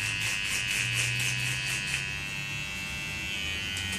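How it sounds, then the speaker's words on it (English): An electric hair clipper running close by, a steady high buzzing hum with a low motor tone, continuous and fairly quiet throughout. "you turn your clipper off and give your clipper a little bit of light dust"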